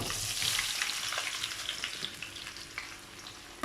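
Potatoes fry in hot oil with a steady, crackling sizzle heard up close, broken by occasional scrapes and taps of stirring.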